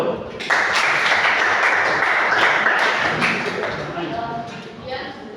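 Classroom applause breaking out in a burst of many hands clapping at once, loud and steady for several seconds before thinning and fading toward the end.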